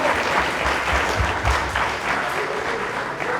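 An audience of students and teachers at a business school Dragons' Den event gives a round of steady applause, a dense, continuous clapping throughout.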